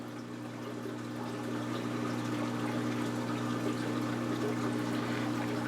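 Water pours in a steady, continuous stream to rinse a rabbit's infected eye, a constant close trickle with an even level throughout and no talking.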